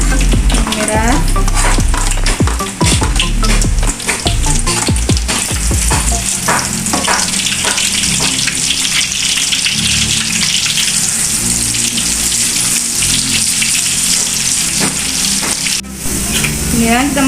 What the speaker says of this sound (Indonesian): Kemudian kita goreng bawang